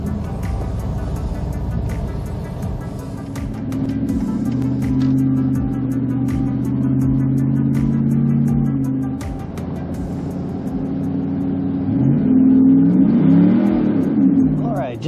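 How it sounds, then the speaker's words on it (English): A car pulls away on a test drive after an oil drain valve install, its mid-pitched engine droning steadily and rising into a louder rev near the end, with a voice speaking over it. "Let's go drive it around and see what happens."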